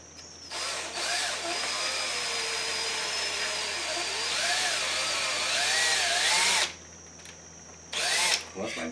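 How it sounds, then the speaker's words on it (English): A power drill bites into a stuck part on a 1974 Suzuki TC 125 motorcycle engine, whining at a wavering pitch for about six seconds, then cutting out before one short final burst. "You got to drill something into it because there's nowhere to get a pick."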